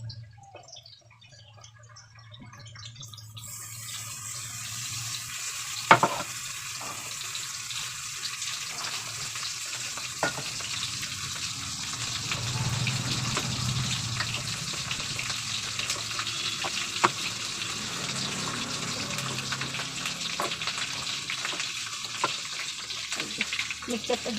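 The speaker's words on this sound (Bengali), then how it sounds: "ভালো করে একটু ভেজে নেব, আলুগুলো একটু ভালো করে ভাজা হোক।" Potatoes frying in a pan for a chicken ball recipe crackle and sizzle steadily close by, with occasional clinks of stirring.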